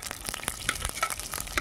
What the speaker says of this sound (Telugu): ప్యాన్ వేడెక్కింది, ఆయిల్ పోస్తున్నాము. మీకు గిన్నె కనిపించడం లేదు కదా, ఒక్క నిమిషం. ఓకే, ఇప్పుడు కనిపిస్తుంది కదండి. నేనైతే ఫస్ట్ రొయ్యలు వేసేస్తున్నాను.